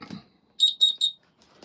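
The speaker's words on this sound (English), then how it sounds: "Here's my buzzer" A homemade electronic buzzer sounds three short, shrill beeps in an even rhythm, close and fairly loud, after a brief thump.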